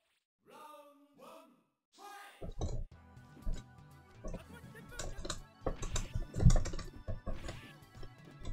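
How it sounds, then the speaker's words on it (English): Arcade fight stick buttons and lever click rapidly and irregularly during a Street Fighter Alpha 2 match, mixed with game sounds. A voice talks briefly at the start. "you can actually hear the clicking of the fight stick"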